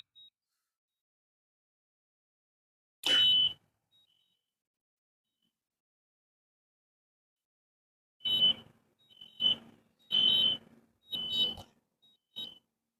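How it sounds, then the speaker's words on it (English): A backup alarm on a piece of construction equipment beeps in short high-pitched bursts, one isolated burst followed by a cluster of repeated beeps, heard from a distance outdoors. "There's a backup alarm on one of the pieces of equipment."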